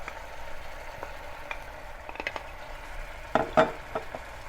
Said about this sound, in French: Donc on va rajouter maintenant les oignons